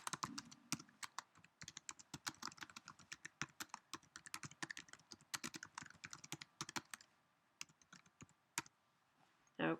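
Rapid, quiet keystrokes on a Mac computer keyboard while entering text into an Excel 2008 spreadsheet, irregular clicking bursts with brief pauses, close and soft, with no talking.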